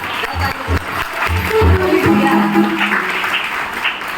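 A crowd claps together in a sustained round of applause at an achievers' celebration event in Meerut, with some voices murmuring underneath.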